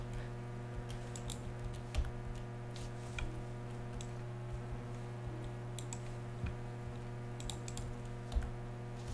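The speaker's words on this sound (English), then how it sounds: "I can't really type today." Keys clatter on a computer keyboard in bursts of quick, light clicks with short pauses between, close and fairly faint over a steady electrical hum, with no talk.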